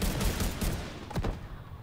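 Rapid bursts of gunfire from a shooter video game, The Division 2, sound as a dense, loud fusillade of overlapping shots that briefly thins toward the end, with no talk over it.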